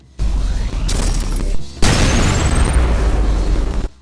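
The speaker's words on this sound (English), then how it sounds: "if you hit the grenade with the third mode of the railgun, you get this." In the video game ULTRAKILL, a railgun shot strikes a shotgun grenade and sets off a huge nuke-style explosion: a loud sudden roaring blast, a brief dip, then a second thunderous burst rumbling on for about two seconds before cutting off.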